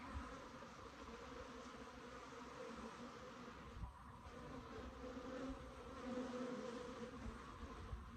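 Italian/Africanized hybrid honeybees hum inside an open beehive during an inspection, a dense, steady buzzing drone close by with no talking.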